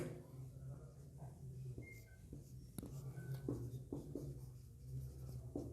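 A red pen scratching across a surface while writing, quiet scratchy strokes with small taps and pauses between words, close up and faint under a low background hum.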